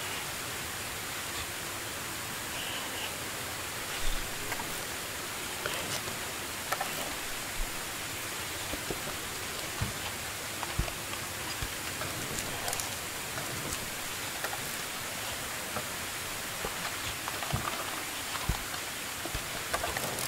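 Steady rain in the video game Medieval Dynasty, a continuous soft hiss of falling drops with occasional small taps and pattering, even and unbroken for the whole stretch.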